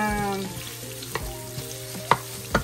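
Onions for a chicken curry hiss in a frying pan, a moderate steady sizzle broken by a few sharp clicks of a utensil against the pan, with no talking.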